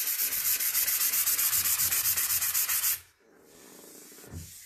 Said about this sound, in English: So what I'm using to sand it with is actually one of the Surf Prep Rad Pads.